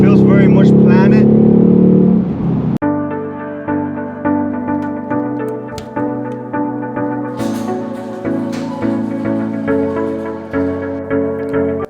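A Ford Mustang Mach 1 with its Coyote V8, fitted with Steeda lowering springs, revs hard from inside the car, its loud engine note climbing again and again in pulses as it accelerates through the gears.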